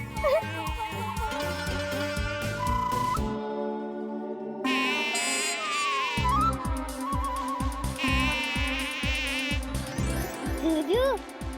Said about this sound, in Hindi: देख देख ये मच्छर कौन है